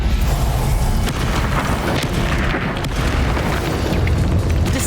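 A Bombarda spell explosion in the Hogwarts Legacy video game sounds as a dense, loud, continuous boom and rumble that holds steady for about five seconds, with no talk over it.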